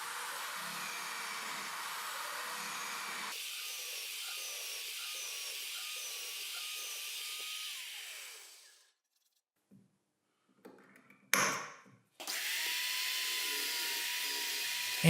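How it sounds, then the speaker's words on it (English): A power drill whines steadily for several seconds, its pitch rising as it bites into wooden table legs boring 20mm holes, then stops; after brief clatter and a scrape, drilling starts again. "I need to drill some holes on the legs, some 20mm diameter holes for the hold-fast clamps"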